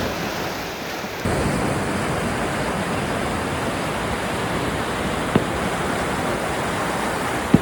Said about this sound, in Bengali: ঢেউগুলো তার উপর নানান কায়দায় নিজেকে সমর্পণ করছে।